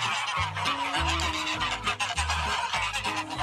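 Several geese honk loudly and repeatedly in overlapping calls, a noisy flock close by with no other sounds.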